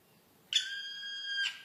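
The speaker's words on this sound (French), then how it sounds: "Cet oiseau qui pousse de drôles de cris a longtemps éveillé la méfiance." A single shrill, whistling bird call holds steady for about a second, clear and fairly close against a quiet background.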